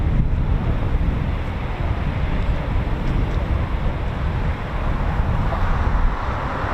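Strong wind buffets the microphone at an RAF airfield, a continuous heavy rumbling roar with no pauses, loud and close throughout.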